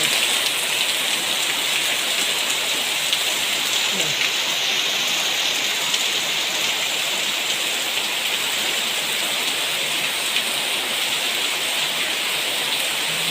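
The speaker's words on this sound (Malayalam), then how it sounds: "അപ്പോൾ അങ്ങനെയാണ്, നല്ല മഴയാണ്." Heavy rain pours down without a break, a dense, loud hiss of drops striking surfaces that stays even from start to finish.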